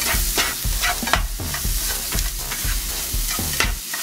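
Food fries in a pan for a vegan tofu scramble, with a steady sizzle under repeated, rhythmic scrapes of stirring, close and fairly loud throughout.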